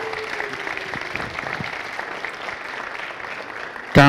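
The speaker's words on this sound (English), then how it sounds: "Can we get a bigger hand of applause" Audience applause at a Nigerian presidential candidate presentation, a steady wash of clapping from a large crowd, with a loud, close burst at the very end.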